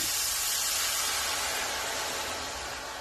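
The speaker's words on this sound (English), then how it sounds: "it's time for me to add the sherry to our pan" Sherry poured into a hot pan with garlic gives a loud, close, continuous hiss of steam that fades slightly over a few seconds, with no voices.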